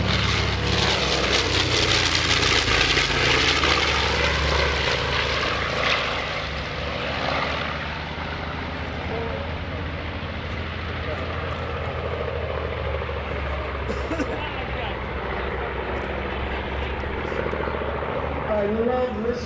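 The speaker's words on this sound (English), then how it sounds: "I love listening to that airplane as it leaves." Throaty drone of a B-25 Mitchell bomber's twin radial piston engines at an airshow, loud at first then receding into the distance, with a voice speaking over the roar.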